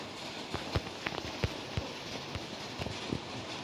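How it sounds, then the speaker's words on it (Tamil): Steady rain falls outside, a dense even hiss with scattered heavier drops and taps, playing continuously at moderate volume with no voices. "இந்த வீடியோவில் கொஞ்சம் மழை சத்தமாக இருந்துச்சுன்னா கொஞ்சம் மன்னிச்சுக்கோங்க"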